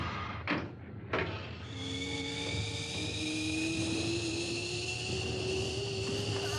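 Aircraft engine in an animated Robotech episode, a steady rising jet whine that builds after two short knocks and holds loud and continuous to the end.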